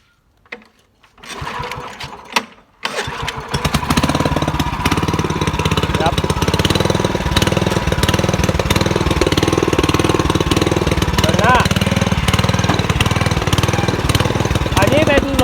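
A petrol-engine rotary tiller used for ridging fires up after a few pulls and short bursts, then settles into a loud, steady, buzzing run close by, with someone speaking briefly at the start.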